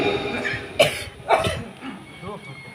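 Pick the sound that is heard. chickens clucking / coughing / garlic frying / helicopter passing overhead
coughing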